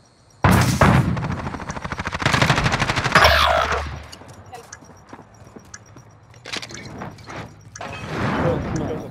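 Automatic gunfire and shotgun blasts in Call of Duty: Modern Warfare crack out in loud, close bursts of rapid fire, broken by short pauses, with a voice heard faintly in the mix.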